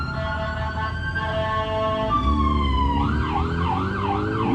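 An ambulance siren wails nearby, shifting from a long steady tone into a rapid rising-and-falling yelp over traffic rumble.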